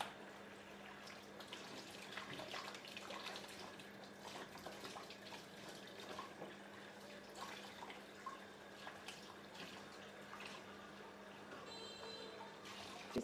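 Fish pieces rinsed under a running tap at a sink, a steady faint splashing stream of water with small drips continuing throughout, no talking.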